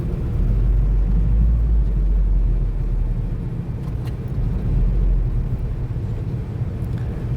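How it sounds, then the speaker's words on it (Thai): Evening traffic jam on a road in Vientiane: a loud, continuous low rumble of car engines and slow-moving vehicles, steady and close with slight swells and no voices. "ยามแรงรถติดทุกวัน"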